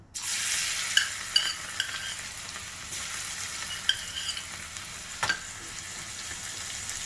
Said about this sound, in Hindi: लहसुन को फ्राई करेंगे ब्राउन होने तक।